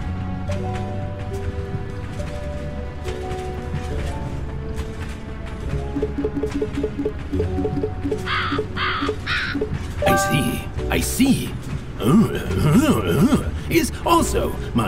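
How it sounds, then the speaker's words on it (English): Crows caw repeatedly aboard a train in the video game A Hat in Time, harsh calls stacking up in quick bursts over game music and sound effects, growing denser and louder toward the end. "Did you notice that there's suddenly a lot of crows on this train?"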